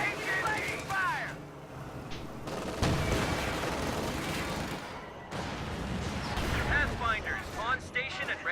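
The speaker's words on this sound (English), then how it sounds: "Contact! Taking fire!" Video game combat gunfire: scattered shots and booming artillery-like blasts at mid distance, mixed with radio-style voices talking throughout.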